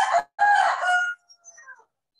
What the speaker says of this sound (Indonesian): ayamnya saja kedengaran